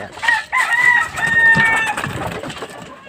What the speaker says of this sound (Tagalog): Yan po yung mga alaga nating Rhode Island Red.